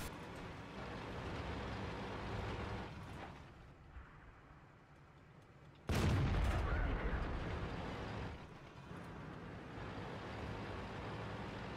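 Tank cannon firing in World of Tanks from a tier 8 T54 lightweight scout on Erlenberg, a single sudden loud blast rising out of engine rumble midway through, then decaying over a couple of seconds amid continuing battle noise.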